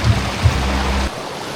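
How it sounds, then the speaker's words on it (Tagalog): Water overflowing at Taytay Falls in Majayjay: a steady, loud rush of falling water, close by and alone, easing to a softer wash near the end. "Ito na yung overflow ng tubig doon sa pinaka-falls"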